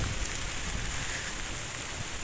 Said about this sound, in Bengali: এখন আবার বৃষ্টিটা জোরে এলো